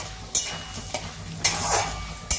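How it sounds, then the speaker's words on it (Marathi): Curry leaves and peanuts roasting in a pan for Kolhapuri bhadang, with a steady sizzle and a few sharp stirring scrapes, close and fairly quiet, no talk. "कढीपत्ता चांगला खरपूस भाजायचा। शेंगदाण्याबरोबर ते पण भाजून निघतं चांगलं।"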